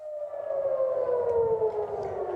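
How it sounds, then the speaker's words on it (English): Air raid sirens wail over Tel Aviv, a sustained civil defense tone sliding slowly downward in pitch, fairly loud and alone without talk. "just as we started speaking, those air raid sirens went off"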